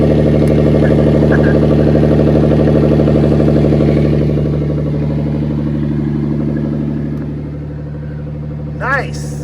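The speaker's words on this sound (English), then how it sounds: "Oh, listen to the exhaust. It's awesome." A Suzuki XL-7 engine idles loudly with a low, throbbing exhaust rumble that eases slightly toward the end, ending with a brief squeak; check engine light on for an O2 sensor.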